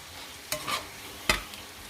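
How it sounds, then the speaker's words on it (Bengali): Baby spinach and vegetables sautéing in butter and garlic, with two sharp stirring scrapes over a quiet, low sizzle. "বেবি স্পিনাচ বাটার এবং গার্লিকের মধ্যে সটে করে নিচ্ছি আর এখানে সব ভেজিটেবল সটে করে নিয়েছি সব এখন একসাথে মিশিয়ে নেব"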